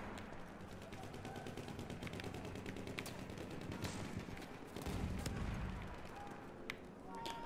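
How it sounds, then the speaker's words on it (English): Gunfire in the video game Battlefield 1, with rapid rattling machine-gun bursts and scattered shots mixed with heavier booms, steady and moderately loud throughout. "People are shooting, and I don't see any enemies"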